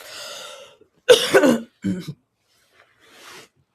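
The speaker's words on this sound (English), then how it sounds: "as you can see me coughing" A person coughs in a couple of harsh bursts close to the microphone, separated by brief pauses, with a little breathy sound before and after.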